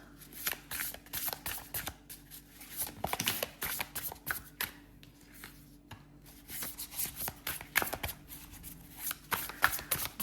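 Tarot cards being shuffled up close, with dense, continuous riffling and flicking bursts that carry on steadily with brief pauses, loud and alone without talk.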